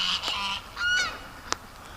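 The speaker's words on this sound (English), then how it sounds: "Oh, here come the geese." A few loud goose honks ring out close by, followed by a brief pause and a short sharp call.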